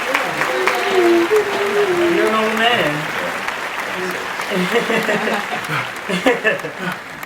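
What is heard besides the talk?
applause for a birthday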